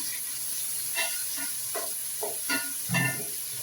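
A steady, quiet sizzle of onions sautéing in a pan, with a constant hiss and occasional soft scraping stirs.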